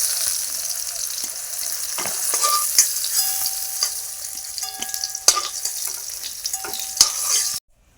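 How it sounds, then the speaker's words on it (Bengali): Pointed gourd (potol) pieces frying in oil in a pan, a steady loud sizzle with light stirring clinks and scrapes scattered through, then cutting off abruptly near the end. "পটলগুলো দেখো ভাজা হয়ে গেছে, সুন্দর করে ভেজে নিয়েছি"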